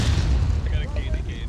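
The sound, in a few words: cannon fire in a video game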